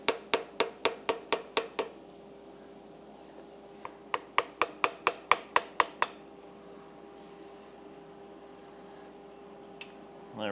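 A small screwdriver is tapped against the old thermostat gasket of a 1969 Johnson 20hp outboard, two quick runs of about eight sharp metallic taps each, close and crisp in a quiet workspace, with one more tap near the end.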